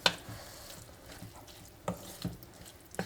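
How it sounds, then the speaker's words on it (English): Mince and garlic brown in a pan with a soft, continuous frying sizzle, broken by a few louder scraping stirs near the start and end, fairly quiet and close. "Mix that in. Brown the mince."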